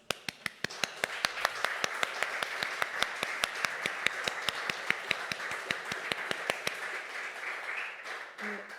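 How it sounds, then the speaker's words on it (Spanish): An audience claps for a speaker at a public event, a burst of sharp, rapid hand claps, close and steady, that thins out and fades toward the end. "Merecidísimo aplauso"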